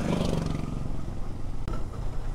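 A motorcycle engine drones steadily on a winding hill road toward Sajek Valley, a low rumbling hum held close throughout with a brief dip and tick near the end.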